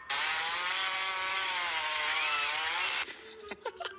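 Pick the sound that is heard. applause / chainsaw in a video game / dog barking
chainsaw in a video game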